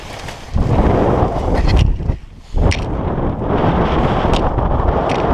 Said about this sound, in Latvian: Tur ir baigais vējš.